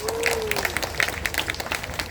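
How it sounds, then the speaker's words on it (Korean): An outdoor audience at a rally claps in a sustained round of applause, the dense patter of many hands steady throughout, with a brief tonal sweep at the start. "좋은 말씀 해주신 소구 선장님한테 큰 박수 한번 부탁드리겠습니다"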